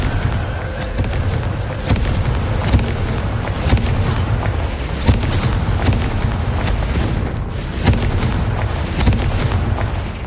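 Loud, dense blasting from the Confringo curse in Hogwarts Legacy, a continuous rumbling barrage with repeated booming impacts throughout.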